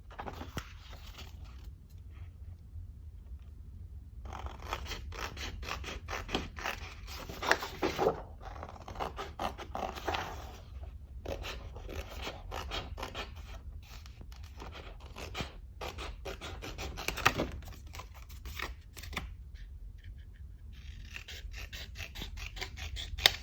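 Scissors cut through paper for a junk journal, close and fairly quiet, in bursts of crisp snipping and rustling separated by short pauses.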